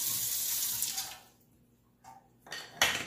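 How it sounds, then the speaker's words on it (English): Tap water runs into a kitchen sink while hands are washed during baked ziti preparation, a steady splashing rush that drops away briefly, then returns louder as the flow resumes near the end. "Okay, wash my hands."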